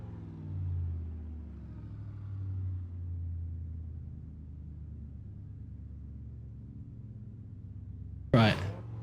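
In the Assetto Corsa racing game, a desert raid truck's engine gives a deep, low rumble that swells and settles, ending in a sudden sharp burst near the end.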